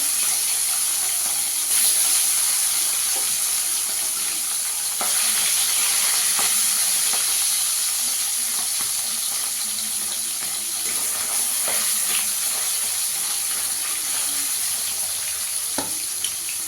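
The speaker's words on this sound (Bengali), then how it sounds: "ট্যাংরা মাছ একটু ফাটে, একটু সাবধানে ভাজতে হবে।" Tengra fish frying in mustard oil in a pan, a continuous close sizzle and hiss with scattered small pops and spatters, steady in loudness from start to end.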